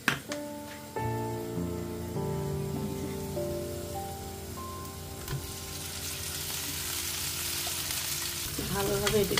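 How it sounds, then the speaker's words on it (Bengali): Garlic frying in a pan, a steady close sizzle with a few spoon scrapes and clinks, running without a break beneath a faint tonal hum. "আমি ওদিকে রসুন ভেজে নিচ্ছি"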